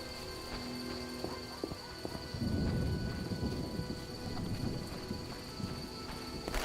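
A thunderstorm rolls in within The Witcher video game, its deep thunder swelling into a sustained low rumble partway through, with horse hooves clip-clopping faintly amid the ambient weather.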